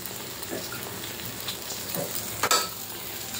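Ghee sizzling in a pan while being stirred for an upma pesarattu, a constant crackling fry with a few light utensil scrapes and one louder clink near the end.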